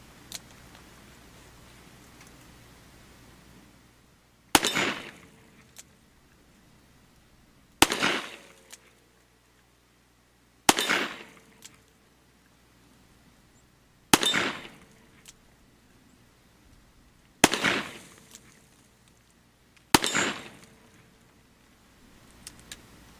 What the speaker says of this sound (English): Now we're going to shoot the Model 66 Smith & Wesson.